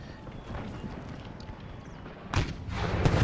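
Cannons fire in a Total War battle: distant rumbling volleys under a steady battlefield murmur, followed by louder, sharper blasts toward the end.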